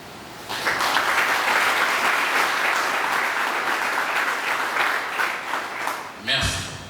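Audience applause at a gathering concerning the DGREC management committee, a dense, steady wash of clapping running for about six seconds before stopping abruptly, followed by a brief knock.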